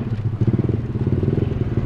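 A motorcycle fitted with an aftermarket TK Moto tri-oval silencer idles close by with a deep, throbbing exhaust burble in quick, uneven pulses.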